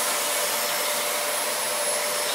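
A Hoover vacuum cleaner runs steadily indoors with a pug nearby, a loud continuous broadband whoosh with a faint whine, unbroken and without voices.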